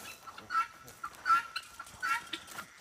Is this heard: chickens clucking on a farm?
yes